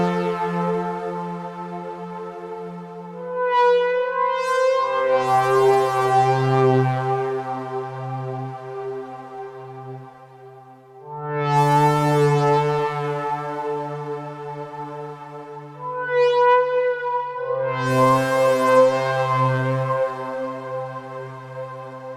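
Soaring analog-style synth brass patch built in Serum, inspired by a classic film soundtrack: rich, bright sustained chords swelling in three long phrases, each with a rising attack, playing alone with no voices.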